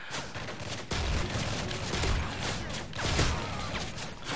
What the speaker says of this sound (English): look at all the explosions!